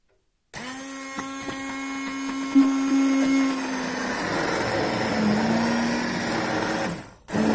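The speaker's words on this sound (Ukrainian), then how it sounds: "Щоб він став однорідним, я його перебиваю блендером." A blender whirs steadily at high speed puréeing satsebeli sauce, its motor pitch shifting slightly as it churns, then cuts off abruptly.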